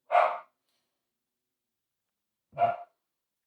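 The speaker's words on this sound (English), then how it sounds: "I hope you guys can hear my dogs barking in the background" Two single dog barks at a moderate distance, spaced a couple of seconds apart, with silence between them.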